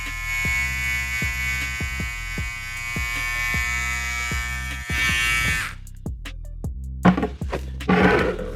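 A Trisan electric hair trimmer buzzes with a steady, close mechanical hum and rhythmic pulsing for several seconds, then cuts off, followed by a few clicks and handling knocks.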